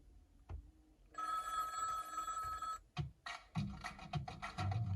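A Skoda Slavia music system plays one of its built-in ringtones: a bright, sustained electronic ring lasting over a second, then a burst of shorter tonal chimes over a low hum, loud and close with no talking.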